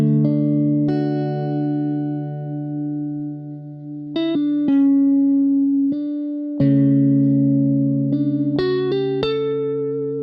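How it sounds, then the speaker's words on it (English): Sustained electric guitar chords ring out, changing every few seconds with wavering vibrato and a chorus-like shimmer, played alone without talking. "It's just your classic electric guitar"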